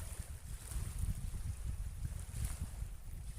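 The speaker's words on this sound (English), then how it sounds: "It's pretty windy. I don't know if you can hear that on the mic or not, but it's a definite strong breeze." Strong wind blows at the sea on the Isle of Wight, a continuous low rumbling buffet against the microphone that gusts unevenly throughout, with no voices.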